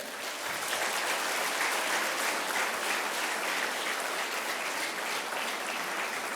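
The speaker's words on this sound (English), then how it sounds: "Let us start the program with a big round of applause for our children." A nursery annual-day audience gives a full, even round of applause for the children, loud steady clapping filling the whole stretch without talk.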